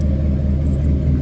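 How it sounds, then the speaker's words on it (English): A 1956 Chevy Bel Air two-door sedan engine idling nearby, a steady low rumble with no voices, lasting just over a second. "Car sounds great, runs great."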